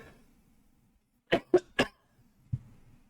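Three quick, harsh coughs come in fast succession, then a softer fourth cough after a short pause, close to the microphone in an otherwise quiet room.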